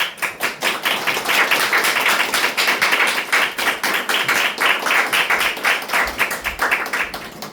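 An audience applauds after a Chungnam education superintendent candidate's speech, the clapping steady and evenly pulsing for several seconds in a press-event room, close and moderately loud.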